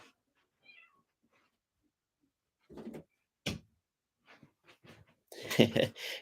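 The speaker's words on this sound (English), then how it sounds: "Got a cat, talking cat." A cat meows several times in short, close calls after a quiet stretch, with a person's voice briefly audible near the end.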